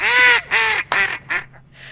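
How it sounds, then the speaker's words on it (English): A duck quacks in a quick run of loud, harsh, laugh-like bursts, four strong calls tapering into softer ones, close and alone with no talking. "I love that duck's laugh."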